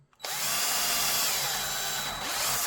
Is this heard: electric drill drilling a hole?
yes